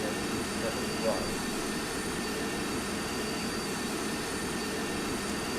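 Airbus A350-1000 jet engines in the GeoFS flight simulator game make a steady, even broadband roar with a high whine, constant throughout and heard under a voice reading radio calls.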